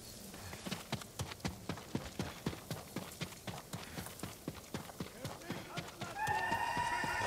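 Horse hooves clip-clop in a steady galloping rhythm in Ghost of Tsushima, loud and close, and a neigh rings out near the end over the running hoofbeats.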